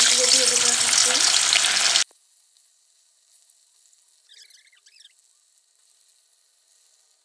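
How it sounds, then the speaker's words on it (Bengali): Paneer pieces sizzle loudly in hot oil in a pan over a lowered flame for about two seconds, then the sound cuts to near silence. "এদিকে তেলটা গরম হয়ে গেছে, ফ্লেমটা কমিয়ে দিয়েছি। এবার পনিরগুলো দিয়ে দেবো।"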